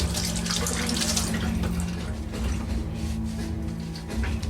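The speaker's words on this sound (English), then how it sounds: "Rinse off your hands." A kitchen tap runs steadily as hands are rinsed under it, a close, continuous splash of water without a break.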